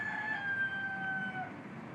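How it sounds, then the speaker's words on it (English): A rooster crows at a steampunk Victorian-life re-creation, one drawn-out, high cock-a-doodle-doo heard from a distance and holding steady for about a second and a half. "maybe some video with a rooster in the background"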